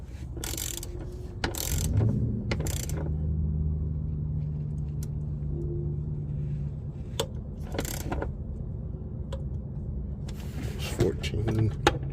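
Torque wrench set to 14 foot-pounds tightening drive shaft carrier bolts on an Audi A6 3.0T, a series of sharp close ratcheting clicks in bursts over a low hum, with someone talking in between.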